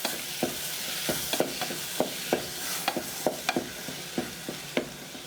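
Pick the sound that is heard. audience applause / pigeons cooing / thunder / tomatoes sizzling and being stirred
tomatoes sizzling and being stirred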